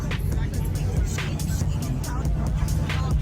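Carlos's VRZ, lowered to the ground on stock wheels, at a pop-up car meet, gives off a steady low engine rumble mixed with crowd chatter and outdoor noise.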